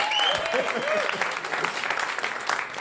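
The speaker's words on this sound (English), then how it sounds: "Pre-applause, I like it." A comedy club audience claps and cheers, applause swelling briefly then continuing steadily as a voice calls out over it.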